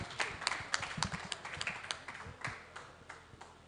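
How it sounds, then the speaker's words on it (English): Clapping hands applauding a chairman as he comes to the microphone at a grammar school old boys' association biennial convention, a quiet round of scattered, uneven claps going on steadily throughout. "A round of applause, please."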